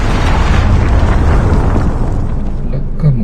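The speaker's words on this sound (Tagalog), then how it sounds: "Predator missile inbound." A Predator missile strike in Call of Duty Mobile lands as a loud, roaring blast that fills the whole stretch with a heavy rumble before easing slightly at the end.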